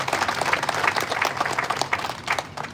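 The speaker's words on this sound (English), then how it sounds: "Let's give them a big round of applause too." An audience at a county fair crowning ceremony gives a round of applause, a moderately loud, continuous patter of many hands clapping at middle distance.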